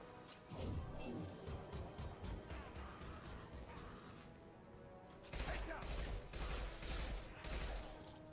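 Mass Effect 2 gunfire rattles in rapid bursts of sharp shots, first a clattering volley, then after a brief lull a louder, denser burst of repeated cracks near the end.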